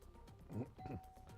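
A quiz bowl buzzer bell marks the end of a high school academic quiz game, a short two-tone chime ringing clearly over faint room noise.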